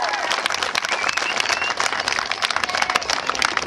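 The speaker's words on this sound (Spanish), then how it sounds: "también, por favor, un fuerte aplauso." A crowd of listeners gives loud, close applause for young school participants at a public event, dense clapping with some cheering mixed in throughout a few seconds.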